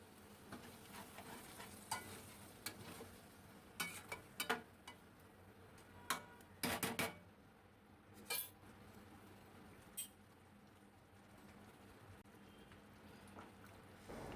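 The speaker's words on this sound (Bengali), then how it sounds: "খুব ভালো করে খুন্তি দিয়ে একটু নাড়িয়ে নেব" Chicken chaap stirred with a metal spatula in a pan, quiet background with scattered sharp clinks and scrapes of the spatula against the pan, some in quick pairs, over a faint low sizzle.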